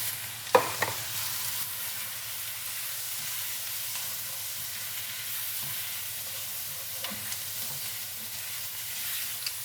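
Flour being cooked and stirred into seafood stock to thicken it, a low continuous simmering hiss with a few soft knocks and scrapes of a utensil, faint and steady with no talk.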